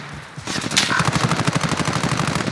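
Assault rifle gunfire in a video game, a rapid, steady stream of close, loud automatic shots rattling on without pause after a brief quieter start.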